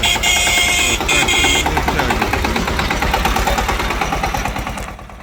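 An Agri Globe 180 small tractor engine idles steadily and loudly nearby, its rapid even chugging continuing throughout before easing slightly at the end.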